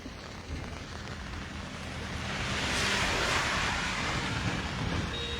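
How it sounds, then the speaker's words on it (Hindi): Heavy rain in Samba pours as a steady broad hiss that swells louder midway through, with wind-like rushing and no speech. "बारिश देखिए काफी तेज हो चुकी है एक बार फिर से"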